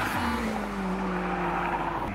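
Racing cars roar close by, engines rising in pitch as they accelerate hard, a loud continuous drone without talk.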